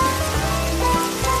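Heavy rain pours steadily in a Hindi cartoon storm scene, a dense, loud, continuous hiss and patter of downpour with no voices over it.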